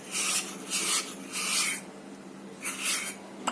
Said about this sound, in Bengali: আরেকটু তাহলে ঘষে নিই, আরেকটু পরিষ্কার হয়ে যাবে